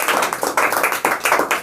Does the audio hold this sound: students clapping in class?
yes